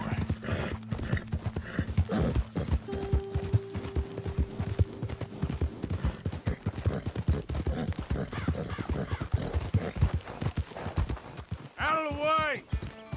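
A horse in Red Dead Redemption 2 gallops with loud, rapid, close hoofbeats, and a whinny comes near the end. Voices talk over the hooves.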